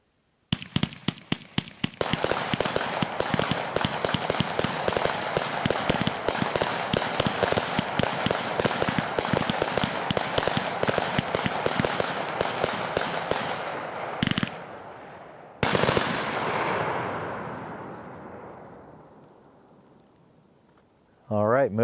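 Great Grizzly's Infraction, a heavyweight 54-shot firework cake, fires a rapid, loud barrage of shots in quick succession, then ends with a couple of big bursts and a long fading rumble outdoors.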